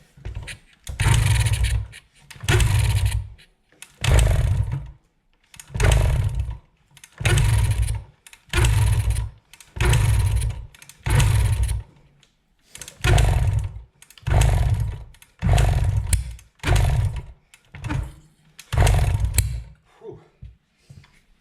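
A 1973 Kawasaki G5 two-stroke motorcycle engine being kicked over repeatedly with ether and choke, about a dozen loud rhythmic bursts of cranking and sputtering separated by short pauses, close to the microphone.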